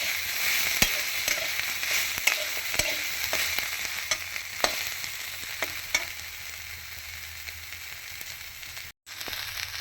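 Green chillies frying in a pan for a paneer dish, a steady sizzle broken by repeated sharp clicks and scrapes of stirring, close and fairly loud, with one brief dropout near the end.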